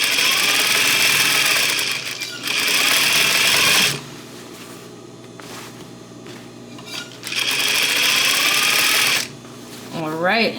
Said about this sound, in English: Continuing to sew here, I'm just gonna go over the other side, the seam on the other side.